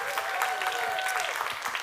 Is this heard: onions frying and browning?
no